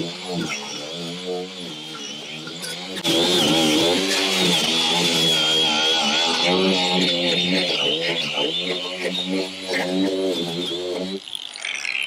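An angle grinder cleans rust off a leaking metal roof seam, starting as a quieter whine and then biting in loudly and steadily for about eight seconds of harsh, close grinding before easing off.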